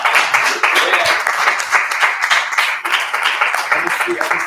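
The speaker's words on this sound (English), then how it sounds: "we're going to continue that round of applause as they come down" Loud, close audience applause at an end-of-project event as participants come down to sit, a sustained roar of many clapping hands with voices mixed in.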